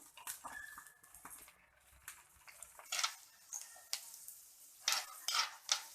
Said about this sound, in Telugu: ఇప్పుడు చూడండి, పల్లీలు ఆల్మోస్ట్ ఫ్రై అయిపోయింది.